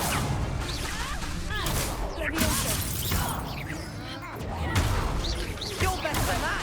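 The Confringo explosive spell in the video game Hogwarts Legacy lets off repeated crackling blasts and whooshing bursts through dense combat noise, loud and busy, with shouted voices mixed in.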